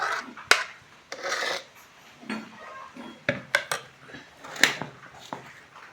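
Jackfruit dough for fanas polya kneaded by hand in a plate, with irregular squelching rubs, slaps and scrapes against the plate, close and intermittent.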